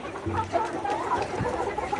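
Layer hens on a poultry farm cluck and murmur close by in short, overlapping calls, a busy flock of ready pullets.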